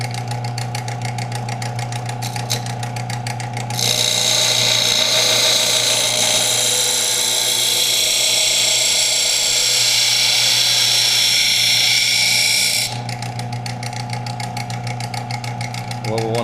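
A power sander grinds the edge of a hunting knife in a long, loud, steady burst lasting several seconds, with quieter stretches of motor noise before and after.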